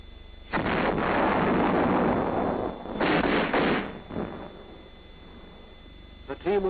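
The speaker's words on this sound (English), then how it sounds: "Enemy indirect fires now begin blasting the defense position." Heavy explosions from artillery indirect fire pound a defensive position in long roaring blasts, one sustained burst followed by another and a smaller trailing impact.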